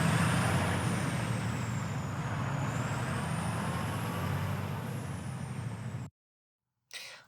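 A big rig truck rumbles steadily at close range for about six seconds, its low engine drone mixed with a high whine, before cutting off abruptly into silence and a short burst of noise at the end.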